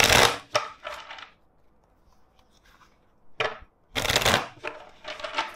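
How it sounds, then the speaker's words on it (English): Two loud bursts of cards being riffle-shuffled, separated by a quiet pause with faint clicks, each burst crisp and close. "let's shuffle the deck four times."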